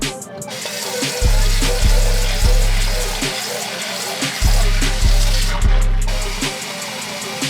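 Running water splashes steadily as tie-dyed skateboard wheels are rinsed under a tap, with a rhythmic low pulsing throb beneath the close, loud flow.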